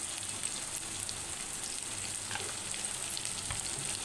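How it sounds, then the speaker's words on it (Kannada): Spices such as garam masala and turmeric being stirred into cooked black-eyed peas in a hot pan, giving a steady soft sizzle with light scraping of the spoon, close by and continuous, with no talking. "ಕಾಳು ಮೇಲೆ ಹಾಕಿ ಕಾಳು ಕೂಡ ಮಿಕ್ಸ್ ಮಾಡ್ತಾಯಿದ್ದೀನಿ"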